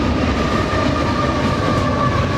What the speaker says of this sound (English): What trains, what busyness, what loudness